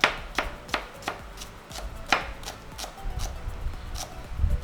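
A knife slices a staining vegetable very thinly on a cutting board, giving a steady series of sharp, close chopping taps at a fairly even rhythm, with no talking.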